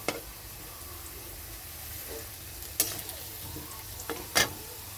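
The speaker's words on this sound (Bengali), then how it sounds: "দেখুন আলুটা ভাজাও হয়ে গেছে" Potatoes fry in a pan for a pabda fish curry, giving a faint, steady sizzle with a few soft knocks and scrapes of stirring scattered through.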